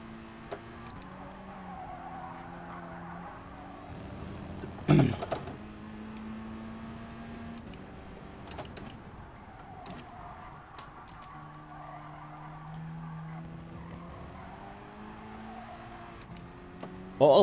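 A car's engine drones steadily in Gran Turismo Sport, played at half throttle, with shifting tonal pitch changes and faint tire noise at low volume, plus a short sharp knock near the middle.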